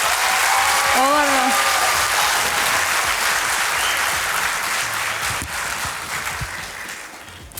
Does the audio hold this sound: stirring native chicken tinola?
no